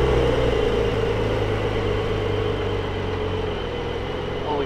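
A BMW F30 idles with its exhaust flaps open, a steady low rumble that holds evenly and fairly loud throughout, with no talk over it.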